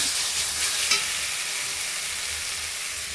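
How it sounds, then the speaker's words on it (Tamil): Sliced tomatoes and onions sauté in a pan for capsicum gravy, hissing in a loud, continuous close sizzle with a brief stir partway through. "இப்போ தக்காளி வெங்காயம் நல்லா வதங்கிடுச்சு"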